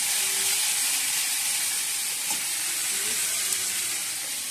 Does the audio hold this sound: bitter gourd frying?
yes